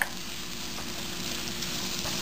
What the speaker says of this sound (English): Mix it and now fry it. I will fry it for about 4 to 5 minutes.